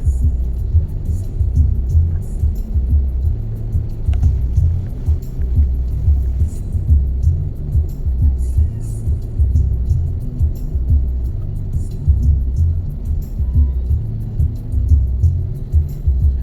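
Low, steady engine rumble of slow-moving traffic in a jam at the Bekasi Timur toll exit, heard from inside a vehicle as a continuous throbbing drone with no talking.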